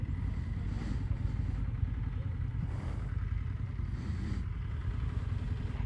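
An Indian Scout 101 motorcycle engine and its exhaust idle with a steady low, rumbling throb, heard continuously and fairly close with no talk over it.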